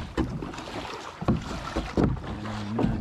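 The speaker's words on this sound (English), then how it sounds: "now I'm gonna paddle 10 more strokes" Kayak paddle strokes in water while out fishing from a kayak, four distinct splashing dips spaced roughly evenly, close by, with light wind noise in between and no talking.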